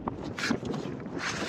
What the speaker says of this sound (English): Wind's getting worse as I get further up